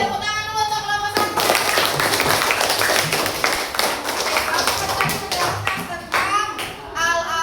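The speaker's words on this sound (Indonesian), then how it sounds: "tepuk tangan dulu untuk kelompok 1" Students clap for the first group in an Islamic religious education class. A dense burst of clapping lasts several seconds and fades into a few scattered claps, with talk at the start and end.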